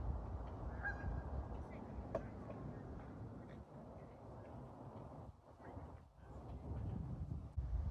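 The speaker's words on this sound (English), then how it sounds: "And today there are some swans by the bridge as well, which is unusual." Geese or other waterfowl honk faintly a few times near a lake by a bridge, set against steady outdoor ambience with a soft breeze.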